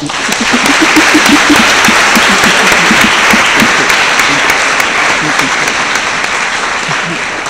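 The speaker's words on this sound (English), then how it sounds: "I think we ought to give the speaker a good round of applause" A lecture audience at the J. B. Danquah Memorial Lectures gives a loud, sustained round of applause for the speaker, a thick continuous roar of clapping with murmured voices beneath it throughout.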